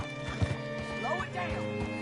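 Horse hooves clip-clop in Red Dead Redemption 2, a steady rhythm of moderate thuds running under talking voices, with a couple of sharper hoof hits near the start.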